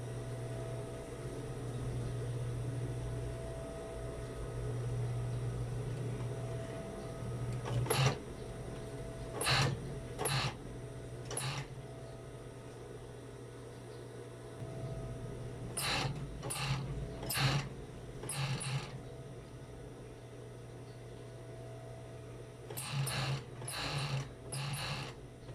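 An overlock sewing machine hums steadily while hemming a shortened trouser inseam, with short bursts of faster stitching and mechanical clicks standing out in clustered runs over a constant low motor drone.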